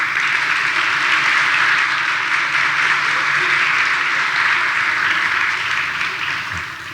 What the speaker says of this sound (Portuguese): Queria que desse uma salva de palmas para ela.